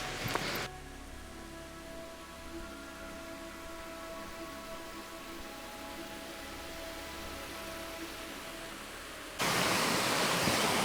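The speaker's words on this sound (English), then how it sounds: "I can hear what sounds like waterfalls" Steady broadband rushing of a waterfall in the woods near a fairy bridge in Scotland, distant and continuous, with a brief knock at the start and the roar growing louder near the end.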